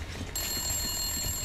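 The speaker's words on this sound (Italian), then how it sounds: "Ma dove è l'allarme?" A steady electronic alarm tone in the video game Metro Last Night rings continuously at a moderate level, starting abruptly a third of a second in over a low background rumble, with no voices.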